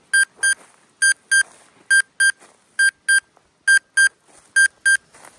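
A $70 Geiger counter used for rockhounding sounds its high-radiation alarm, a loud, clean electronic beep repeating in steady pairs, about eleven tones over five seconds, with faint clicking between them.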